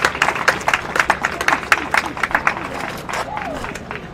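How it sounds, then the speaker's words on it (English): A baseball crowd applauds the Moberly Greyhounds all-defensive team players during an on-field awards presentation, with sharp individual claps rattling in quick, uneven bursts close by over a background of crowd murmur. "Give these guys a round of applause."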